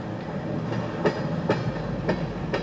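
A CN freight train pulled by three engines rolls steadily past, its wheels sounding a regular clickety-clack of rail joints every half second over a continuous low rumble, fairly close with no voices.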